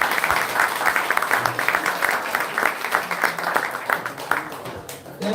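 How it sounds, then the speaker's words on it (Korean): Steady applause from an audience at an international symposium, dense and continuous clapping filling the room throughout. "네, 박수."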